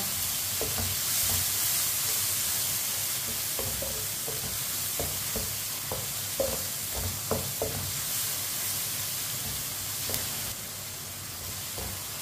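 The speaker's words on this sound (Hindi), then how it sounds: "टमाटर को भी 2 मिनट के लिए पका लेंगे" Chopped tomatoes and green chillies cook in a pan for palak and masoor dal, giving a steady close sizzle with scattered stirring knocks and scrapes throughout, no voices.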